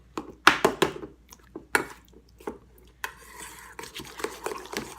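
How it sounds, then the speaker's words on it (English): Sour cream and butter being mixed together in a bowl, a series of close, uneven scraping and tapping strokes of a utensil against the dish, with short pauses and a quicker stretch of stirring near the end. "I'm going to mix the sour cream and the butter together."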